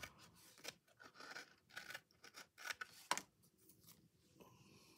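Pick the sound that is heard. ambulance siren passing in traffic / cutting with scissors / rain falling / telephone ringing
cutting with scissors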